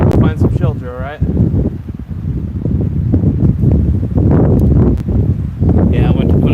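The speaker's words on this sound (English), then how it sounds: "It's kind of windy out here." Strong outdoor wind rumbles and buffets the microphone in low gusts under a person talking nearby at night.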